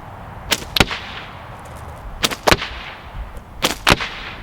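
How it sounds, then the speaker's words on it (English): Sling projectiles strike a coconut set in gelatin, heard as three pairs of sharp, loud cracking impacts spaced a second or more apart over quiet outdoor background. "I heard that one go in and hit the coconut."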